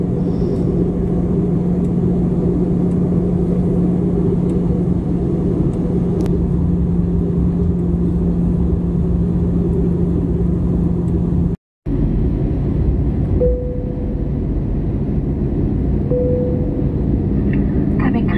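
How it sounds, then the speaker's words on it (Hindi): Airplane cabin descending toward Sharjah, UAE: a loud, steady engine and air drone with a constant low hum fills the whole stretch, broken only by a brief dropout near the end. "जहाज़ ने अपनी बुलंदी कम करना शुरू कर दी है।"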